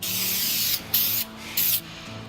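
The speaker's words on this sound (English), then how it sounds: "you're just going to spray all the moving parts, coat it well" Bursts of aerosol lubricant spray hiss in short blasts with brief pauses, close up, over a low steady background hum, coating moving parts of an RV slide-out.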